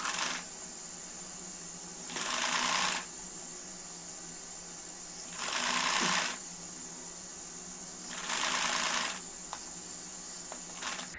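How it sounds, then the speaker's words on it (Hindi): Short runs of a sewing machine stitching pleats into a winter frock come in three or four faint, evenly spaced bursts separated by quiet pauses. "मैं इसके ऊपर रखकर सिलाई लगाती जाऊंगी।"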